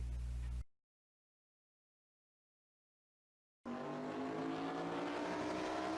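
Race car engine droning steadily through a lap of Circuit of the Americas in a sim racing game, loud and continuous over the last two seconds after a short burst at the start and a long stretch of silence.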